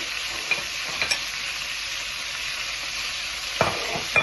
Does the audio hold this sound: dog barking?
no